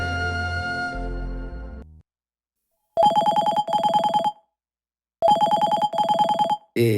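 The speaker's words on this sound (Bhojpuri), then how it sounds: "अब्बड़ समय से फोन लगा तो का बन्नी उठात हस?" A loud electronic phone ringtone sounds in two-pulse bursts with gaps between, right after a burst of music cuts off.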